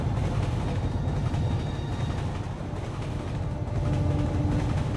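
A locomotive pulling freight in the New Cycle video game rumbles steadily, with a loud, continuous low-pitched rolling drone and no talking.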